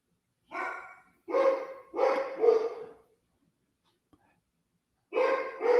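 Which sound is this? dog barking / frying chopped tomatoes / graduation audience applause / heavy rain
dog barking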